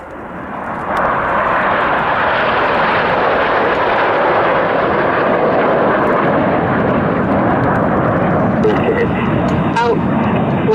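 RAF Red Arrows jets fly a display at the Duxford air show, giving a loud, continuous roaring rush of engine noise that swells quickly and holds steady, with a commentator talking over it.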